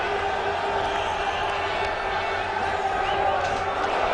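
Crowd noise at a 2007 England vs India one-day international cricket match, a steady broad roar of spectators with scattered shouts, loud and continuous throughout with no break.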